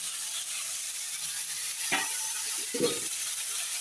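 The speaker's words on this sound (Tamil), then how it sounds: "தக்காளியும் சேர்த்து நல்லா வதக்கணும் அடி பிடிக்காமல் இருக்கிறதுக்கு நம்ம அதை கிண்டி விட்டுட்டு இருக்கணும்" Tomatoes sautéing over a medium gas flame give a steady soft sizzle, with two brief scraping stirs of the pan partway through; no one speaks.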